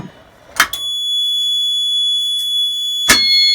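A fire alarm panel on an agent release system sounds during a demonstration. A few sharp clicks come first, then a steady high electronic buzzer tone holds loud and close. A second click is heard near the end.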